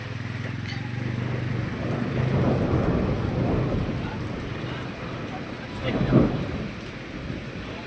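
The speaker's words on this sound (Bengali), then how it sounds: "বিশাল একটা বাজ পড়বে এখন।" Thunder rolls through a storm: deep rumbling swells over several seconds under steady rain and gusting wind, then a sharper, louder clap bursts near the end.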